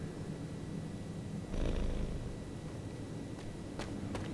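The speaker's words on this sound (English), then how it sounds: "There's a cat." A cat purrs inside the video game Marvel's Midnight Suns, a steady soft rumble that runs alone and swells briefly louder partway through, with a few faint clicks near the end.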